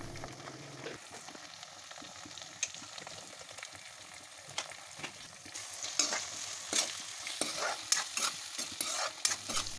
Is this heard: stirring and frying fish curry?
yes